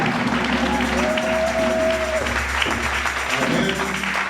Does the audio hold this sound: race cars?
no